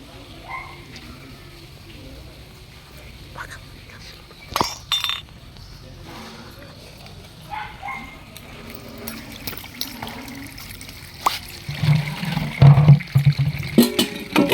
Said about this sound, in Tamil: எங்கள் அப்பா மீன் கழுவ போகிறாரு